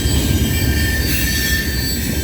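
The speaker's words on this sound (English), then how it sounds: "this train's heading to Sarnia, Ontario" CN freight train CNL501 rolls past at night in Ontario, a loud, continuous rumble of railcars with steady wheel noise and a thin high squeal, close by and with no voices.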